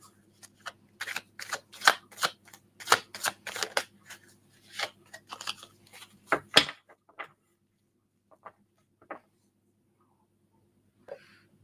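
Tarot cards being shuffled by hand at close range, a burst of rapid riffling flutters for about six seconds followed by a few scattered soft card taps and quiet handling.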